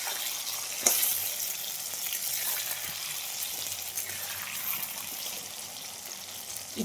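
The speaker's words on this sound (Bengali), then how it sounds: "আমি আলু ভাজা চাপিয়ে দিলাম" Potatoes frying in a pan, a soft, steady sizzle with faint occasional stirring knocks, fairly quiet and even throughout.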